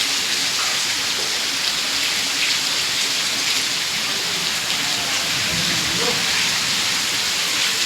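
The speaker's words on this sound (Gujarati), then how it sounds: "ખૂબ વરસાદ ચાલુ છે હવે." Heavy rain pours down steadily as a dense, loud, continuous hiss during a downpour, with no other sounds rising above the constant roar.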